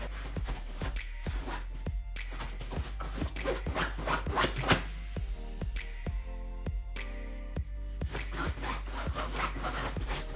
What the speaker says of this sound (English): That was my dog trying to bury into her favorite spot.